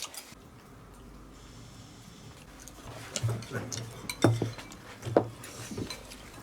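Washed, unblanched pork belly for home-style braised pork is stir-fried directly in a wok, heard as scattered metallic clanks and scrapes of a spatula against the pan that grow busier and louder toward the end over a low background.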